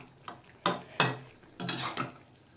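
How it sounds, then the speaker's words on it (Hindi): A spoon scrapes and clanks against a pan while pumpkin, potato and white pea curry is mixed, several distinct metallic knocks and stirring scrapes close by, with no voice. "अभी मैं सबको अच्छे से इस तरह मिला लूँगी और गैस अप कर लूँगी।"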